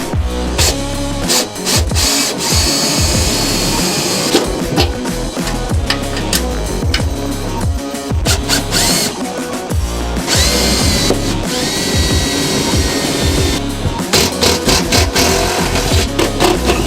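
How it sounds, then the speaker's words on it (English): A power drill whines and bites loudly in repeated bursts, the motor revving up and down as it bores holes through a metal tray; close and continuous, no speech. "So we'll drill the holes"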